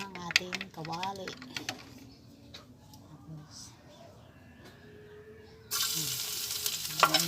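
Hot frying pan bursting into a loud, bright sizzle partway through as food hits the oil, following quieter kitchen clatter and a voice speaking.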